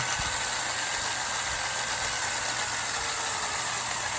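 A small electric motor in a custom LEGO RC car runs steadily, a constant high-pitched whine and buzz with a low hum underneath, close and continuous without pause.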